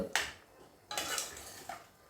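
A metal lid is set onto a pot of Sri Lankan spicy drumstick curry, making three close, sharp clanks with short ringing tails spaced less than a second apart.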